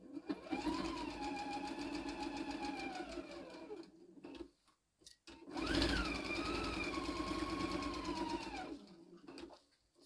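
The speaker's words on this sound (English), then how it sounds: "And then you just sew right on the line." A sewing machine stitches along a marked line on a tea towel in two steady runs of rapid, even whirring, with a brief pause between bursts.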